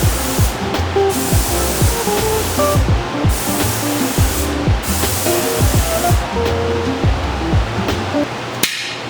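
Spray gun spraying paint onto a Turbo V6 Accord, a steady loud hiss with brief pauses and a few faint knocks.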